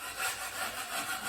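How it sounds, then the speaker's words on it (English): A trowel scrapes a second coat of filler across a wall repair over old light holes, making a steady, rhythmic rasping drawn back and forth at close range with no talking. "So for the second coat, just scrape it good."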